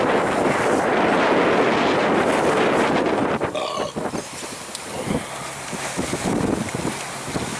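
Strong wind roars across the microphone aboard a sailboat under way, steady and loud throughout with water rushing beneath, no talking.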